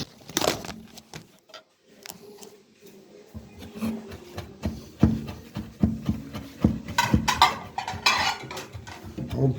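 Parsley being chopped with a kitchen knife on a board while preparing leek whites, giving irregular clustered knocks and taps that come close and moderately loud, with brief pauses between bursts.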